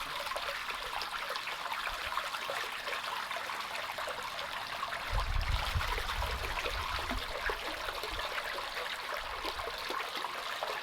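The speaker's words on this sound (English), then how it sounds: "As you can see, it's starting to overflow now." Pond water spilling over the rim of a DIY spillway bowl waterfall fed by a filter: a continuous close trickle and splash that swells slightly in the middle, with no talk.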